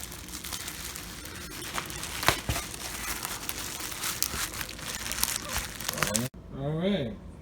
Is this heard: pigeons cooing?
no